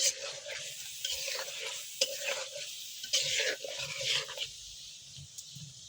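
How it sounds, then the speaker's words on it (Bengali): Tengra fish curry stirred and fried in a pot over a clay stove, giving a steady close sizzle broken by repeated scraping stirs, with no talking. "এদিকে আমাদের তরকারি খুব ভালোভাবে কষানো হচ্ছে।"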